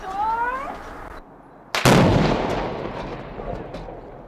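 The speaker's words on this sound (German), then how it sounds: "am Freitag mit einer alten Napoleon-Kanone" A single loud shot from an old Napoleon cannon fired at the opening celebration of a car dealership, bursting out sharply after a quieter stretch and trailing off in a long rumbling decay.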